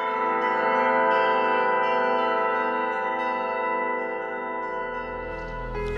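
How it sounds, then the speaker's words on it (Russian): Bells at the Church of the Nativity of Christ in Krasnodar, rung automatically by playback equipment rather than a bell-ringer, sustain a loud, dense chime of overlapping tones that rings steadily throughout with no voices. "Специально для этого установлена аппаратура, позволяющая воспроизводить 24 колокольных звона без участия звонаря."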